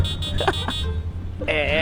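A car horn sounds in the game GTA 5 as a super car is driven, a few short tonal blasts at the start and a longer sustained honk near the end, loud over engine and game noise.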